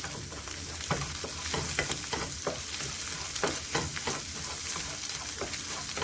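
Ginger and garlic frying in a pan for a spicy shrimp cabbage fried rice, with a loud continuous sizzle and repeated scraping strokes of a spoon stirring close by, and no voices.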